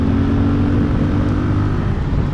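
Husqvarna Vitpilen 701 single-cylinder motorcycle engine labouring low and steady in third gear at slow road speed, a loud, close, constant chugging drone with no pauses.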